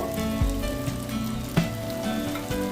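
Puffed rice chops (murir chop) fry in hot oil, a steady, close sizzle and bubbling crackle throughout, with a few soft knocks of a utensil.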